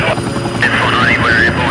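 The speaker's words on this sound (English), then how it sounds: "You've got a helicopter overhead" A police helicopter flies overhead in a 1988 South Yarra, Melbourne crime scene, its steady rotor and engine drone loud and continuous, with voices speaking over it.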